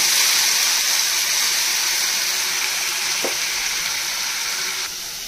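Onion, green chilli paste, ginger-garlic paste and tomato purée sauté in a pan with a loud, continuous close-up sizzle, a single brief utensil clink partway through and no voices.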